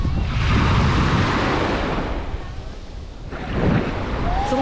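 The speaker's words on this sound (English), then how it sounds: "It's a little bit more windy than it normally is, so that's why the waves are so high." High surf pounds the shore on Milopotos beach, Ios, on an unusually windy day, a broad continuous roar of breaking waves with wind buffeting the microphone, swelling again near the end.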